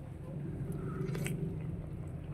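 Someone close by bites and chews a cooked pesang biya, a Filipino ginger-broth fish dish, with soft wet squishing and mouth sounds running steadily over a low background hum.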